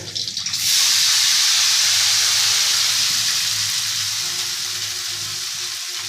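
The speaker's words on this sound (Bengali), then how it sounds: "এই চাউমিন ঢেলে দিল কড়াইয়ে" Chow mein noodles hit a hot wok and burst into a loud, steady sizzle, with a brief clatter at the start, then a dense frying hiss that stays strong and fades only slightly.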